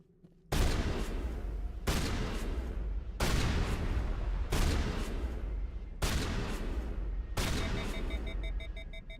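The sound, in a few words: gunfire from the video game Mass Effect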